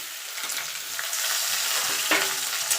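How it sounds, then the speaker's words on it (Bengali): Potato, papaya and mixed vegetables frying in hot oil, a bright continuous sizzle with a sharper burst of spatter partway through as pieces hit the oil, close and steady, with no talking. "এবার এই তেলে আমি সবজিগুলো দিয়ে দেবো। আগে আলুটা দিয়ে দেবো, পেঁপেটাও দিয়ে দেবো"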